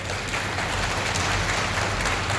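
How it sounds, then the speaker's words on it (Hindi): Steady applause from a crowd, a dense wash of clapping that stays loud and even throughout without any break. "इसके लिए एक बार जोरदार तालियां होनी चाहिए।"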